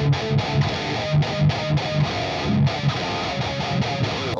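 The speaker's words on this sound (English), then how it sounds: "For the distortion sounds, I used this little guy here" Electric guitar through a distortion pedal called the Beast, played as a dense chugging riff with short rhythmic gaps, loud and up close, with no talk.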